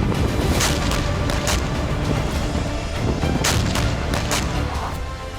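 Russian artillery fire striking Ukrainian military positions rumbles loud and constantly, with sharper booms and blasts rising over the dense roar.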